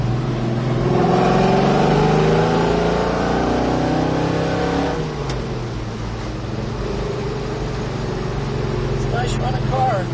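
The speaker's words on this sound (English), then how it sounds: "Nice, strong running big block Chevy." A big-block Chevy V8 in a 1970 Chevrolet Chevelle SS-style convertible roars loudly as the car accelerates, its deep rumble shifting pitch partway through, steady and close throughout.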